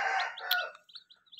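Desi Aseel hen with three-day-old chicks, chirping as the chicks peck at scattered grain; a burst of clucking and cheeping followed by thin, high peeps that come and go, fairly faint and close.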